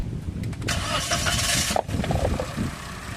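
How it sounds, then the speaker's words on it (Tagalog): A Toyota Wigo's engine cranks briefly and fires up after an oil change, then settles into a steady idle, heard up close with no talking. "tapos pa-start ko na itong makina"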